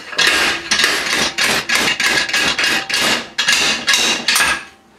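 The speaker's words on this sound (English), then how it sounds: "Sometimes you just need a bit of shock on it to break that grip, and then it'll pull out nicely." Rapid, loud metallic knocks repeat in a steady rhythm, about a dozen sharp impacts close by, as a slide hammer knocks out a Suzuki Hayabusa suspension link bearing.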